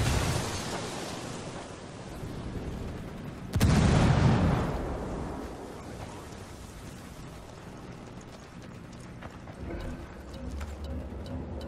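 Frag grenade detonating in the shooter game Ghost Recon Wildlands, a single loud burst around the middle of the clip over a steady rumbling game ambience that fades afterward.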